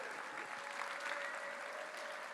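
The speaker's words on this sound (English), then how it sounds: "Let's all give Tammy a final round of applause here." Audience at a Wisconsin Democratic Party state convention applauds steadily, a dense, even wash of clapping that holds at a constant level throughout, with a faint tonal hum beneath.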